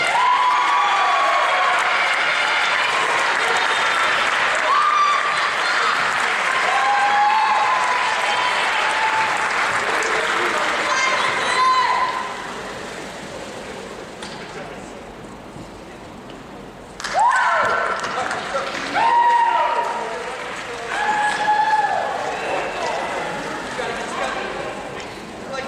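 A gym crowd at a women's college basketball game between Saint Martin's and Northwest Nazarene claps and cheers in sustained applause that swells and dips, with an announcer talking over a PA throughout.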